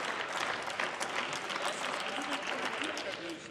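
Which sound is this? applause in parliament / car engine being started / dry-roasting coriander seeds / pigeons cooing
applause in parliament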